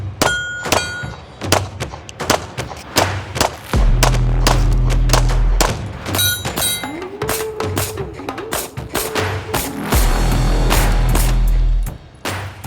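A Lone Wolf Dusk 19 pistol fires Remington UMC ammunition at steel targets in a rapid string of sharp, loud outdoor gunshots, some followed by the faint ring of hits on steel, with brief pauses between bursts.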